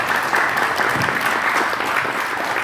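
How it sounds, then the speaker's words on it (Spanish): A university audience gives loud, sustained applause at the end of a talk on privacy and anonymity mechanisms in networks; the clapping is thick and continuous from start to finish. "démosle un fuerte aplauso"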